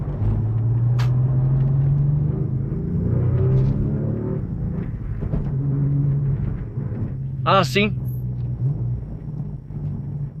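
Porsche 996 engine giving a steady low rumble at idle or light throttle, with someone speaking over it and a brief high squeal near the end.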